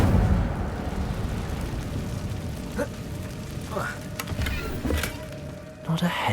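The Incendio fire spell in Hogwarts Legacy lets out several short whooshing flame bursts over a steady low rumble, spaced a second or so apart, fairly faint against the background.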